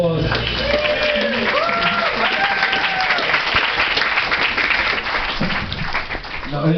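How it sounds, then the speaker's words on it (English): Audience at a fan cafe event breaks into sustained applause, dense and steady clapping with some cheering, while a voice speaks over the start and end. "Give a round of applause."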